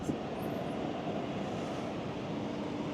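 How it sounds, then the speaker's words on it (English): An inexpensive Walmart gaming PC idles with its fans running, a steady, even whoosh of airflow that holds without variation, close and moderately loud, with no talking. "It's obvious that there's fans running in the background though"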